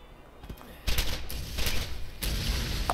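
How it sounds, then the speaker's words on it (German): A burst of booming blasts and crackling gunfire-like bangs erupts suddenly in the video game Borderlands, with rapid loud impacts following one another for a couple of seconds. "Mega-Explosion."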